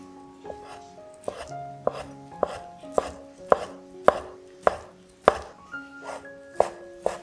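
A knife chops tofu skin into strips on a cutting board, about a dozen sharp, evenly spaced thuds in a steady rhythm, close and clear, with a faint voice in the background.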